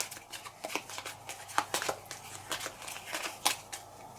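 Playing cards for the solo board game Bangkok are shuffled close by, a run of crisp riffling bursts and soft slaps with no talking.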